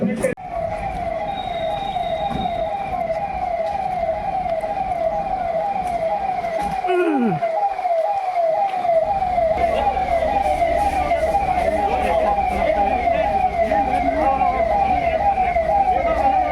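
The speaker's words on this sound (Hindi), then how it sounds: "एम्बुलेंस फटाफट लेके आए" A loud, continuous ambulance siren wails at an emergency mock drill, its rising-and-falling tone steady throughout with traffic rumble beneath and a brief low whoosh midway.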